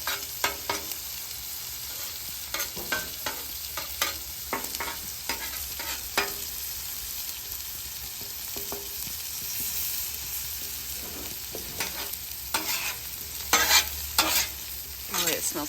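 Steak searing on a griddle with butter, rosemary and garlic, a steady close frying sizzle with scattered pops and crackles throughout, no talking.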